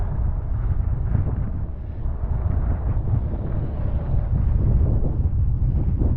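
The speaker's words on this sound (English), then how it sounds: "It's a little windy" Steady, low wind rumbles and buffets across the microphone throughout, with no voices.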